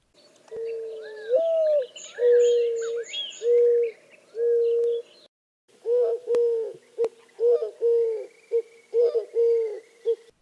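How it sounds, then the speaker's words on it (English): Eurasian collared dove song from a backyard in Arizona: repeated three-part cooing phrases, clear and fairly close, with a short pause midway and then more phrases. Other faint birds call in the background. "Eurasian collared doves give a simple, repeated three-part cuckoo cook song"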